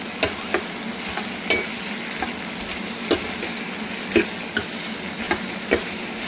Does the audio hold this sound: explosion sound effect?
no